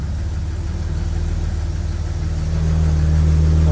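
A car engine idles with the hood open as the car is shifted into reverse: a steady, close, low rumble that swells slightly louder toward the end.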